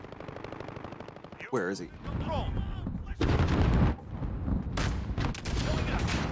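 Weapons firing in a video game, bursts of gunfire and booms mixed with whooshing effects, loud and intermittent, with a voice talking over parts of it.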